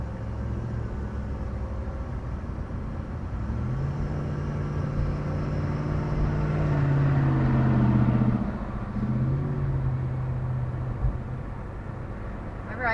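A car drives along a three-lane highway with a steady low engine and road rumble that swells in the middle and then eases, heard from inside the vehicle with no talking.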